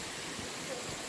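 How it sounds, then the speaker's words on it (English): A big waterfall on a winter hike in Acadia National Park gives a steady, broad rushing roar, constant and fairly distant, with no other sounds over it. "Big waterfall."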